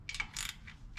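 A hand ratchet clicks close and faint in a few quick pawl bursts while turning on the sump oil strainer of an air-cooled Porsche 911 engine.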